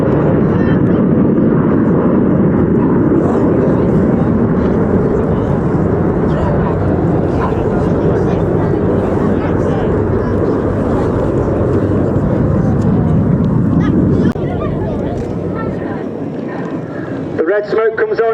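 Display team jets fly over the RAF Cosford airshow, a broad, steady roar lasting throughout that eases slightly toward the end, with a narrator talking over it.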